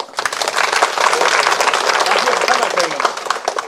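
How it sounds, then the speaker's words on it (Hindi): A crowd applauds a dancer at a Koch Rajbongshi community gathering with steady, dense clapping that lasts throughout, mixed with voices. "एक बार सर के लिए जोरदार तालियां हो जाए।"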